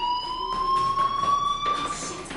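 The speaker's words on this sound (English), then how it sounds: "do you hear that fire alarm?" A fire alarm in a PS4 video game rings as one continuous, slightly rising electronic tone, clear and fairly loud, with faint background noise behind it.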